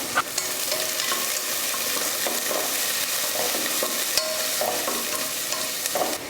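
Onions frying in hot oil with cinnamon sticks, cloves and cardamom for a veg biryani, a steady close sizzle with occasional clinks and scrapes of a spoon stirring the pan, no voices.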